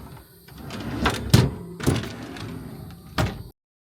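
Metal pantry drawers in an Eagle Cap 1150 truck camper rolling in and out, the top one slightly bent, making several close, rattling slides and knocks with a sharp final thump.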